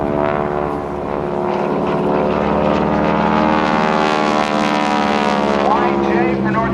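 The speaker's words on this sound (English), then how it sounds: "as Bill Leff does the 8-point hesitation roll?" A North American Aviation propeller plane flies an eight-point hesitation roll at a naval air station airshow, its engine a loud, steady droning roar that holds throughout, with a voice talking over it.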